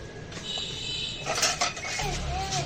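A metal kadai (frying pan) is handled on the stove as oil goes in for frying, giving brief clinks and scrapes of cookware in a quiet home kitchen.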